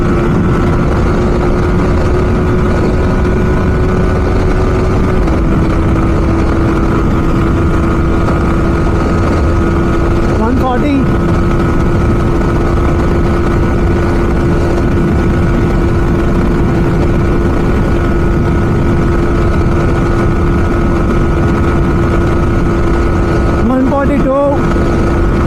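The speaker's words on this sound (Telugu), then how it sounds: "అసలు మళ్ళీ బైక్ టాప్ స్పీడ్కి వెళ్ళట్లేదు" A Yamaha R15M motorcycle engine runs at high speed during a drag race between 2024 and 2022 models. It makes a steady, loud droning whine mixed with wind rush that holds continuously from start to end.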